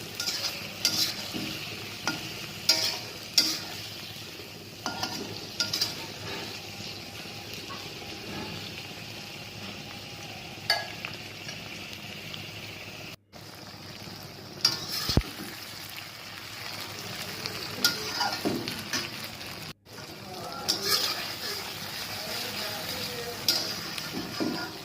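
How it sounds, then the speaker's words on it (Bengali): Onion scapes and sliced tomatoes fry in a pan with a steady soft sizzle throughout, broken by occasional stirring scrapes and clinks, close and moderately quiet with no talking. "পেঁয়াজের কলি এবং টমেটোগুলো নরম হয়ে আসা পর্যন্ত ভেজে নিচ্ছি।"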